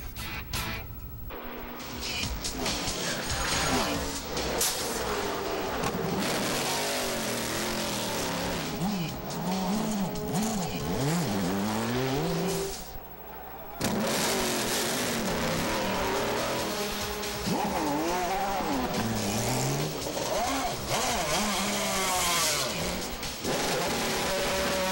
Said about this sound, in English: the sights and sounds of Sebring International Raceway